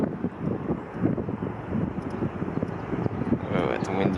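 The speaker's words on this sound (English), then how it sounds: "Whoa, it's windy." Strong wind gusts buffet the microphone outdoors at the SoFi Stadium construction site in Los Angeles, a loud rumbling roar that rises and falls, with a person talking under it.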